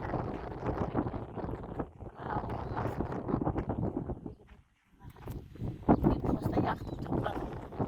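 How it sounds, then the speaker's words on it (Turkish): Strong wind gusting across a rural yard where manure is smouldering, a steady roar buffeting the microphone for most of the clip, dropping briefly near the middle before surging back loud. "Full böyle esiyor arkadaşlar."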